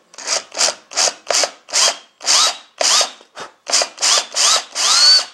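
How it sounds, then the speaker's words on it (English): A power drill with a 3/16 bit bores into red oak at low speed, about a dozen short rasping pulses in steady rhythm, close by, with a faint whine at the motor's pitch and no talking. "I'm going to take my drill, it's got a 3/16 bit on there, I center it up in the hole, and then I'll put this on a low speed."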